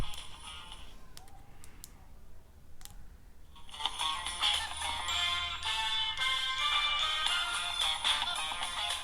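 A Samsung Galaxy A13 plays its ringtone through the phone speaker after a few light taps and clicks, then a bright melodic tune rings out steadily for several seconds, close and tinny.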